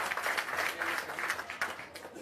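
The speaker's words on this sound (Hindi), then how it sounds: "एक बार जोरदार ताली आप अपने इस प्रयास के लिए लगा लीजिए" Audience applause at a political gathering at a Bihar satyagraha ashram, a steady wash of many hands clapping together that runs throughout and thins slightly toward the end.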